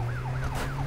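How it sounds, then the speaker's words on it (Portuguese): In the Brazilian GTA game, a police car drives with its siren on: a repeating rising-and-falling electronic wail cycles several times over a steady low engine drone, clear and close, with nobody talking. "Já vamos chegar aqui de sirene ligada"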